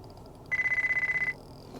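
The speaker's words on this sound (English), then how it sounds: "I just getting a phone call because my phone is connected to the car" A phone ringtone plays through the connected system of a 2008 Lexus GS 350, a single burst of rapid pulsing electronic tone lasting under a second, clear inside the quiet cabin with no talk.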